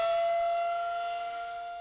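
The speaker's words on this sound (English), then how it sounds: "While the sirens mean danger" A loud, sustained civil defense tornado siren holding a steady wailing tone, slowly fading slightly as it continues.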